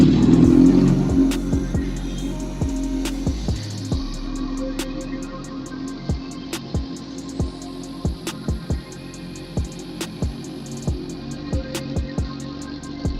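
A 1000cc big bike idles with a steady low engine drone, a cold motor being warmed up after a throttle adjustment, broken by repeated sharp clicks or taps spaced about a second apart; no talk.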